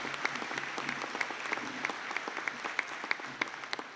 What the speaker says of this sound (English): And if we'd like to give a round of applause.